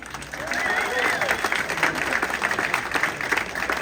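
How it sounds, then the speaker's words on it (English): A comedy club crowd at the Westport Funny Bone claps and cheers for a stand-up comedian, a dense, steady burst of applause with voices mixed in throughout. "applause for Jake Beckman"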